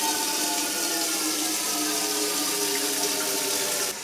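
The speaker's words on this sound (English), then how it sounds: "So you need to get this filling with water." Tap water pours steadily into a pot, a continuous broadband rush that holds even for about four seconds and then drops off at the very end, near and alone with no talking.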